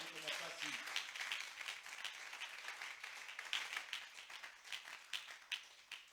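Congregation applauding and cheering during a church seminar evening, a steady mass of clapping that swells and stays lively throughout, with voices calling out over it.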